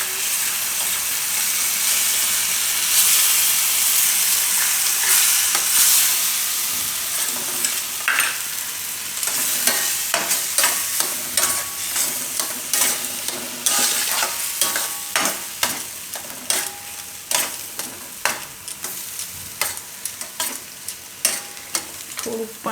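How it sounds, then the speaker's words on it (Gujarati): A cucumber mixture with flour is stirred in a hot pan, giving a steady sizzle at first, then a run of repeated scraping strokes and clicks that grow sharper and more rhythmic toward the end. "આમાં આપણે હવે આ લોટ નાખી દેવાનું અને મિક્સ કરતા જવાનું."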